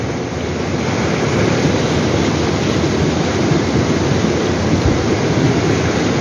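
Hailstones pound down during a heavy storm in the countryside near San Marco dei Cavoti, Italy, in early June 2023, a loud, dense, unbroken roar of impacts with no pause.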